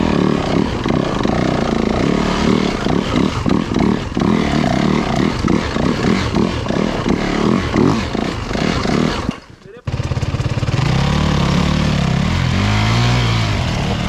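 A loud enduro motorcycle engine revs hard with pulsing throttle off-road, cuts out briefly, then idles low as voices talk nearby.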